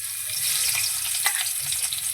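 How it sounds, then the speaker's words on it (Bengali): Pieces of rohu fish fry in hot oil in a wok, giving a close, steady sizzle with light crackles and bubbling. "এবার আমি একে একে মাছগুলো তেলের মধ্যে দিয়ে দিচ্ছি।"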